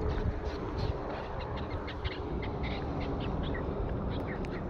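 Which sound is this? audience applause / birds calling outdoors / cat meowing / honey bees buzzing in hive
birds calling outdoors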